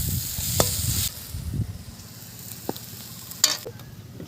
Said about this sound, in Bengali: সব রকম মশলা খুব সুন্দরভাবে ভেজে নিয়েছি